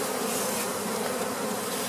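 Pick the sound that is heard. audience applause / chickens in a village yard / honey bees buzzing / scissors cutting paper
honey bees buzzing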